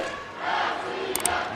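A spectator crowd at a taekwondo match roars steadily in a large hall, a dense continuous wash of cheering and shouting with no single voice standing out.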